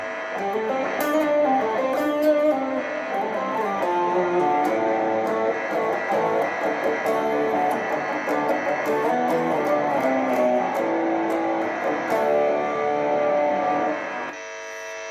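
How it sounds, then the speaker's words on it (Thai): A distorted electric guitar with a shimmering chorus-like effect plays a continuous solo line with sustained notes, loud and up close, then cuts off abruptly. "แตกโซโล่มีคอรัสก่อน"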